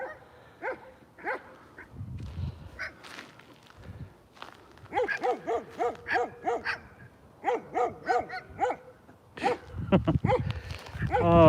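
Outdoors, a dog barks repeatedly in quick bursts, fairly close, with whimpering yips between runs and a person talking at moments.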